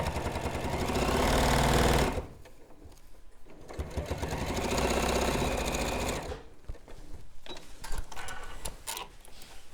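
Sewing machine stitching a seam on a baker boy hat, loud rapid mechanical whirring in two long bursts, then shorter stop-start stitches close by.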